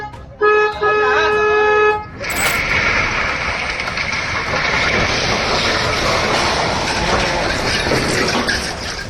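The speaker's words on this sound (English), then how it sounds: "The train, heading toward Jiading, stopped after the impact." A Shanghai metro train heading toward Jiading roars steadily after a brief two-tone horn toot near the start, with a continuous rumbling rush and faint rattling throughout.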